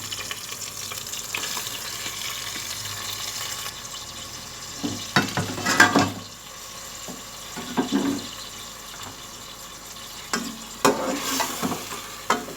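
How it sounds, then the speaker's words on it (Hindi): Close-up sizzling as mutton fries with ginger-garlic paste and onions in a pan, with scraping stirs and clattering bursts every few seconds, the frying hiss running steadily underneath. "अब हम इसमें गोश्त डालेंगे।"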